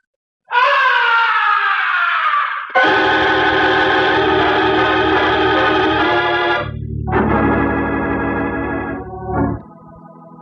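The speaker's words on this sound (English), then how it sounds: "the opera house was pierced with a blood-curdling scream" A blood-curdling scream rings out high above the stage of an opera house, a loud wailing cry in several long sustained bursts that slide in pitch, with no talk over it.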